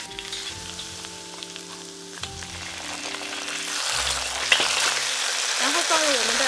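Doubanjiang bean paste hitting hot oil with Sichuan peppercorns in a wok, a bright sizzle that swells and grows louder over several seconds, close up, with a low steady background tone early on.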